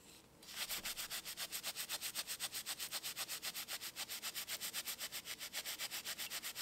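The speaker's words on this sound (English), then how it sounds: "use the soft brass brush and just give it a good scrub" A soft brass brush scrubs an etched metal plate in a heated ammonia solution, making a brisk, regular back-and-forth rasp of about three strokes per second that continues steadily up close.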